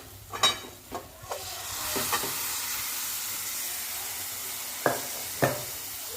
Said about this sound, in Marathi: आता आपण आता हे छोले जे उकडून घेतलेत ना ते टाकून घेऊया